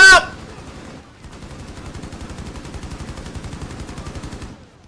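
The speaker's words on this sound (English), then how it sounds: "I couldn't see his head, so I had to shoot him in the legs." Rapid automatic gunfire in the Rainbow Six Siege beta: a loud burst at the start, then a steady, fast stream of shots with no talk over it.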